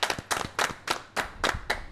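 Studio audience on a French car and motorbike television show clapping in distinct bursts, about six separate rhythmic rounds of hand claps, moderately close, with no talking over them.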